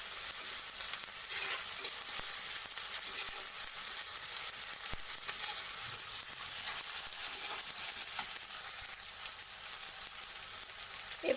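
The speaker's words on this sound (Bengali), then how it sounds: "এটাকে এরপর একটু ভালো করে নাড়িয়ে নিলাম।" Spices for Bengali chana dal sizzle in a hot pan as they are stirred, giving a faint, even frying hiss with occasional light ticks.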